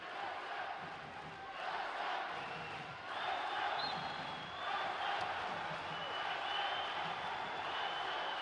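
Arena crowd at a wrestling bout in Baku at the 2015 European Games, a sustained roar that swells and cheers loudly, with a commentator talking over it.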